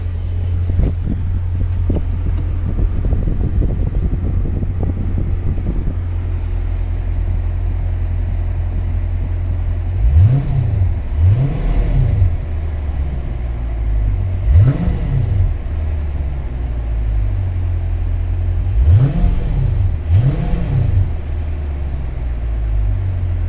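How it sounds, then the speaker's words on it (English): A deep 6.4L V8 in a 2020 Dodge Challenger R/T Scat Pack idles steadily, then revs up in several quick blips, two close pairs and a single, each rising and falling back to idle. "Give it a few revs."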